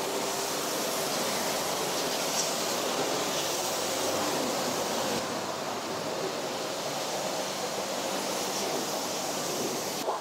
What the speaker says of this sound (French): Et enfin, un rinçage haute pression.